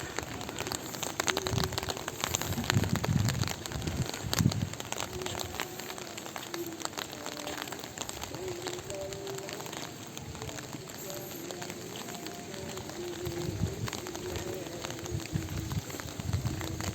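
Rain falling in the afternoon over a rural village, a steady soft patter spread evenly and fairly quiet throughout. A voice may be faintly present beneath it.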